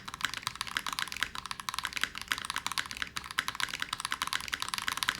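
Brisk, steady typing on a Razer BlackWidow 75% keyboard with its feet raised, dense clacky keystrokes close up and continuous with no voices.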